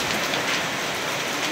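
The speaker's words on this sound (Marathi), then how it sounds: "एकदम जोरात पाऊस आणि हवा पण आहे" Heavy rain and strong wind with large hailstones hitting walls and blowing into a house form a dense, loud, unbroken roar of pelting precipitation, with no voices.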